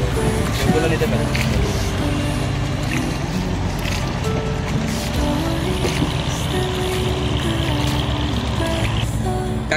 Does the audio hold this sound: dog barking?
no